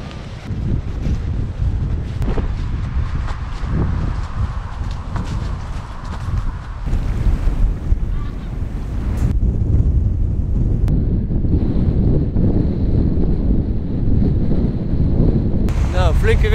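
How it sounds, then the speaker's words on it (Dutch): Strong wind on the east side of the Amstelmeer in the Netherlands roars and buffets the microphone in a constant, heavy rumble, with gusts growing louder partway through. "Flinke wind hier aan de oostkant van het Amstelmeer."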